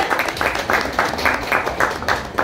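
Studio audience applauding to welcome a performer onto the stage, a steady wash of many hands clapping with rhythmic surges throughout, loud and continuous with no talking.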